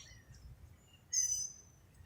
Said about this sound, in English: Look, I see the bird.